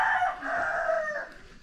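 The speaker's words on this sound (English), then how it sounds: "until those roosters started up" A rooster crows once near a rural village along a mountain trail, a single drawn-out, strained cock-a-doodle call at moderate distance, rising and fading over about a second and a half.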